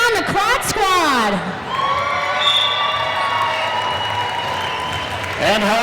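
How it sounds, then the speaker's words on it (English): Roller derby fans at a Mad Rollin' Dolls bout, Quad Squad versus Vaudeville Vixens, cheer, whoop and applaud in a loud, sustained crowd roar, with a voice over the arena speakers at the start and end. "Who's here cheering on the Quad Squad?"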